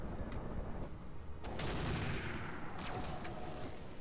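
Weapons firing in a mech combat video game, a dense barrage of booming shots and blasts packed closely together, loud and continuous with a sharp burst near the end.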